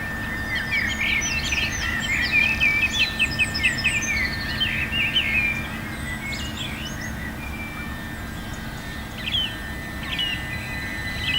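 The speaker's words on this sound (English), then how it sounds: "I feel a little bit like Alfred Hitchcock, filming birds that you can't see singing." Birds sing in the morning at Chalkwell: several bright chirps and warbling phrases, moderately distant, clustered early and then sparser, over a steady outdoor hum.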